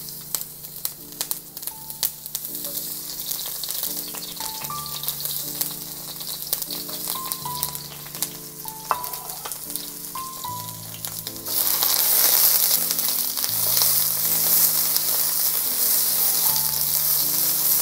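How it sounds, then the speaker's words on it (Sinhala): Capsicum (bell pepper) sizzles steadily in a frying pan while Singapore rice vermicelli noodles are being prepared, the hiss growing louder and fuller partway through, with soft tonal background music playing throughout. "ඊට පස්සේ එළවලු ටික ෆ්‍රයි කරගන්න යන්නේ මම මුලින්ම කැප්සිකම් ටික"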